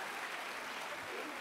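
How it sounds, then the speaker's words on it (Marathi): Loud, dense, continuous applause from an audience at a rakhi presentation ceremony in Maharashtra, a steady wash of many hands clapping throughout. "जोरदार टाळ्या वाजवा"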